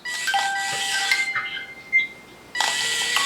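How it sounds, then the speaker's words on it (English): A telephone rings in bright electronic bursts, loud and close, pausing briefly between rings before starting again. "Paul, come get the phone. Phone calls for you."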